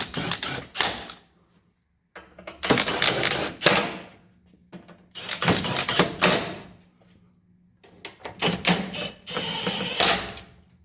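Impact wrench on its lowest setting giving short bursts to bump screws snug during general maintenance on a 1996 HDJ80 diesel Land Cruiser, four separate rattling bursts of roughly a second each with pauses between, close and clear.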